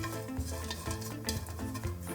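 Anchovy heads stir-fried in a pan, with a steady close sizzle and repeated scraping of a utensil against the pan, loud and continuous with no talking.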